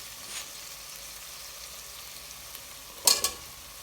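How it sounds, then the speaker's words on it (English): Spices and onions sizzle softly in a pan for chicken tikka with potatoes, then a brief louder burst of frying and crackle as the potatoes drop in near the end. "What I'm going to do now is add our potatoes in."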